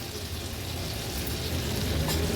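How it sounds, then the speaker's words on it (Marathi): Fish roe (gaboli) frying in a pan, a steady close crackling sizzle with a dense rain-like texture that continues without pause. "चार ते 5 मिनिटं झाले जवळपास आपण ही गाबोळी फ्राय करत ठेवली होती"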